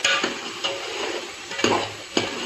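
Tomatoes and chicken with pulao masala stir-fry in a pot for Punjabi chicken yakhni pulao, a continuous close sizzle with a few sharp scrapes and clinks of the spoon, and no voices.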